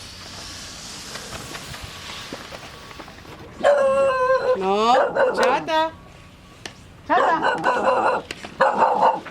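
A small dog barks in sharp, yappy bursts in two clusters, close and loud, with a person speaking to it between the barks.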